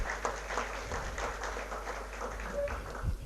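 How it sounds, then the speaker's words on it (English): Applause from an audience at an ICAI branch tax seminar in Ahmedabad, a modest, uneven patter of clapping with a few louder individual claps, moderately loud and close. "Let's have a big round of applause for sir."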